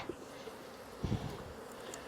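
A honeybee swarm hanging on a tree makes a faint, steady outdoor buzz, with a couple of brief louder bumps partway through.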